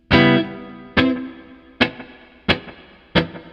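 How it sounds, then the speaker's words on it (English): Five sharp guitar strikes ring out at a steady pace, each followed by a quick slapback echo from a delay pedal and a washy reverb tail. "this deep blue delay that just has a slap"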